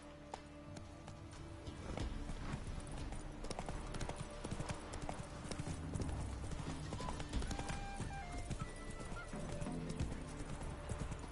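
Horse hooves clip-clop at a steady riding pace in The Witcher video game, a continuous rhythmic trot with faint neighing and game ambience behind it.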